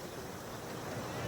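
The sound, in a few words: sea waves at Digha beach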